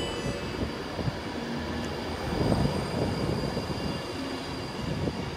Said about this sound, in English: I think we see another Avanti West Coast train coming down the line.